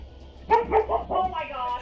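A family dog barks in several quick yelping bursts at close range, with agitated human voices mixed in around the barks.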